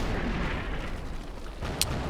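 A German mortar barrage in the Combat Mission wargame, a short burst of rumbling explosions and booms, close and heavy, with a sharp crack near the end.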